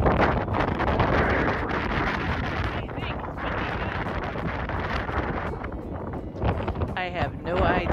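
Strong wind on a desert highway in Nevada buffets the microphone with a loud, continuous roar throughout, and a voice speaks briefly near the end.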